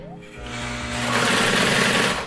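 Sewing machine stitching the lining of a leather clutch purse, a rapid steady mechanical whir that speeds up and holds, close and fairly loud.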